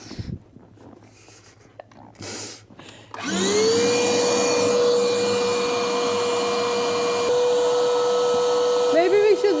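An electric air pump inflating a boat tender starts up after a few quiet seconds with brief rustling and knocks, then runs as a loud, steady whine with a constant pitch to the end.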